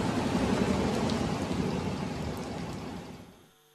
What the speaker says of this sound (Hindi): देखिए किस तरह से मूसलाधार यहाँ पर बारिश हुई है